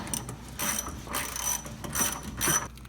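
A ratchet tightens the 21mm bolts holding the steering gear box to the frame of a 1994–2002 Dodge Ram, with four or five steady, close clicking strokes in a regular rhythm.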